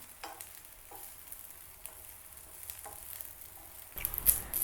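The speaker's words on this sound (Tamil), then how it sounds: "கத்திரிக்காய் 2 சைடு நல்லா ஃப்ரை ஆகிடுச்சு." Brinjal slices fry in a pan with a soft, steady sizzle and occasional light stirring, and the sizzle grows louder near the end.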